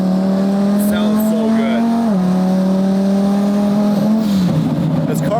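A twin-turbo Lamborghini fitted with a billet transmission, its engine droning loudly and steadily from inside the car, the pitch stepping down at two gear shifts while building boost.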